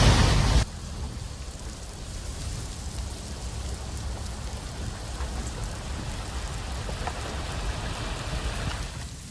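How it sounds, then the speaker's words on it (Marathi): Heavy monsoon rain pours down in Mandangad in Maharashtra's Konkan region as a dense, steady roar close by. A brief louder burst opens it before it settles into an unbroken wash with no voices. "धो धो पाऊस या ठिकाणी सुरू आहे"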